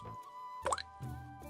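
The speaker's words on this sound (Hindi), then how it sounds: "घर की शांति को भंग करते हुए केवल पीतल के बर्तन में गिरती बूंदों की टिप टिप सुनाई दे रही थी।" Drops of rainwater falling from a leaky roof into a brass pot in a quiet old house, making a few soft, close plops and drips spaced apart, with no voices.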